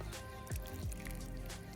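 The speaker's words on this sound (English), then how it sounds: "I water my soil a little bit, not too much water, just to make it a bit damp" Water poured onto garden soil for growing tomatoes, with a couple of soft, wet drips and squishy splashes close by, quiet and brief.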